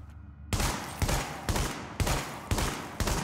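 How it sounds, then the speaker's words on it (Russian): Six booming SASG-12 shotgun blasts in The Division, fired in quick, even succession, loud and close, each with a short rumbling tail. "из дробаша можно стрелять вот так."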